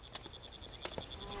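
Crickets chirp in a steady, even pulse at a low level, with a few soft knocks and clicks scattered through the short stretch and no voices.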